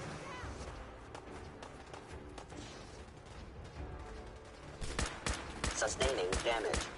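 Gunfire in Fallout 4 during a fight at a radio tower, with bursts of sharp shots scattered through the background that grow into a louder, denser volley of cracks near the end.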